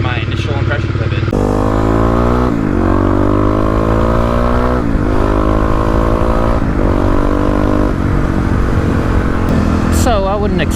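Kawasaki KLX351 dual-sport motorcycle fitted with a crash cage and sliders, riding with loud, continuous engine drone through repeated gear changes and rising revs, heard close up from the bike with wind noise throughout.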